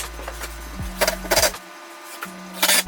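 Longer 3/4-inch screws are driven into a WDC diagonal corner 2430 cabinet, with short bursts of a drill's motor whine starting and stopping several times, close and fairly loud.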